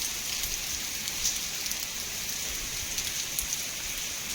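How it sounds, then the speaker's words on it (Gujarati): Heavy rain pours down steadily among tall trees in Upleta, Gujarat, a dense constant hiss that holds at the same level throughout, with nobody talking. "ફૂલ વરસાદ આવે છે"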